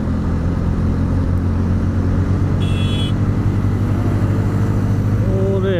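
A TVS Apache motorcycle at night on a road near Sat Matha, heard as a steady, loud engine drone with road rumble throughout, rising in pitch toward the end as it passes by.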